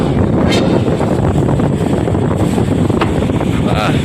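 A stranded ship on a beach is pounded by waves, a constant loud roar of surf and wind buffeting the microphone, with a few sharper impacts breaking through.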